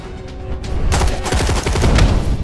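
Dense bursts of automatic gunfire and shots in the video game DARK, loud and continuous through most of the stretch after a brief quieter lead-in.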